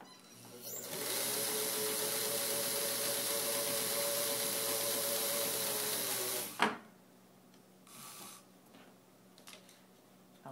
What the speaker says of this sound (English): I'll first demonstrate stitching on denim.